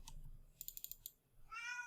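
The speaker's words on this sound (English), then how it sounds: "I think my cat's going crazy again." A house cat meows twice, faint and close, once briefly at the start and again in a longer rising cry at the end, with a quick run of soft keyboard typing clicks in between.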